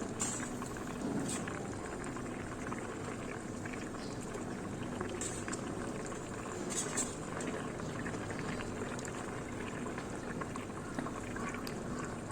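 A pot of poa fish curry with potato and eggplant bubbles steadily, a continuous soft boiling hiss with occasional small pops, heard alone and fairly quiet.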